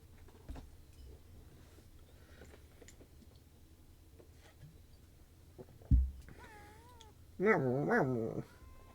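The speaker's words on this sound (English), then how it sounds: "I should pet the cat." A cat meows in the medieval video game Pentiment, with a couple of clear, wavering meows near the end over a quiet game backdrop and a soft thump just before.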